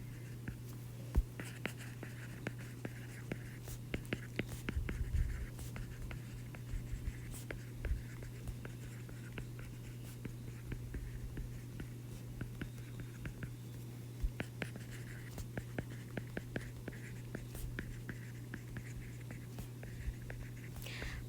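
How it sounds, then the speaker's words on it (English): A pen scratches steadily across paper or a whiteboard while math is worked out, producing faint, intermittent strokes and taps over a low constant hum, with no talking. "We can write that. Let's write that first."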